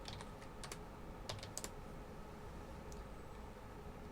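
Light keystrokes on a computer keyboard while entering Linux terminal commands: a few quick, sparse clicks close by in a quiet room, trailing off into stillness, with no talking.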